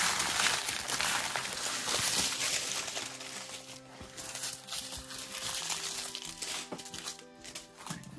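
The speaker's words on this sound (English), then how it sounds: "Excuse the crinkling." Plastic packaging of a diamond painting kit crinkles and crackles continuously up close while being handled, busy and dense throughout with faint handling bumps, no talk.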